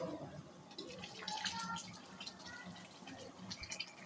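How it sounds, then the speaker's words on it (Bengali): One spoonful of lemon juice trickles into a pot of simmering beef korma, a soft, faint liquid splash and drip over low kitchen background noise. "এখন দিয়ে দিব 1 চামচ লেবুর রস।"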